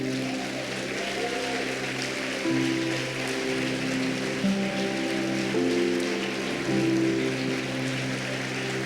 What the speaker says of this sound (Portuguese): Será que você consegue aplaudir Jesus?